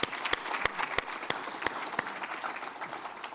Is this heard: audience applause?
yes